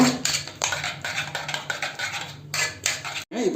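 The lid comes off a pot of vegetables cooked for sambar, with close metal clatters, scrapes and clinks of lid against pot rim, fairly loud and with no speech.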